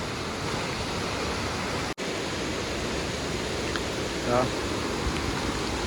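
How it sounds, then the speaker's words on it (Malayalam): Powerful water rushing at Thommankuthu waterfalls, a broad continuous roar of steady noise with a brief dropout, close and loud throughout. "നല്ല ശക്തിയിൽ വെള്ളം ഒഴുകണം കേട്ടോ"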